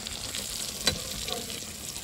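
Fish coated in masala frying in a pan, a steady close sizzle and crackle of hot oil throughout, with one brief louder spatter near the middle and no talk.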